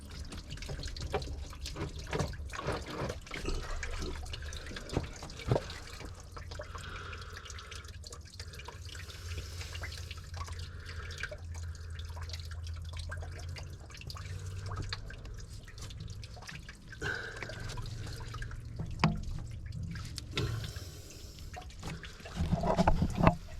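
Coolant draining from a Vauxhall Omega 3.2 Elite radiator trickles and drips steadily into a container, close by and moderately quiet, with scattered clinks and handling noises.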